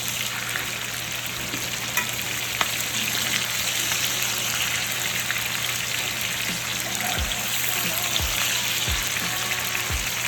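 Chicken fries in a pan with a steady, dense sizzle and crackle that holds at an even level throughout, with a few soft low thumps near the end and no talking.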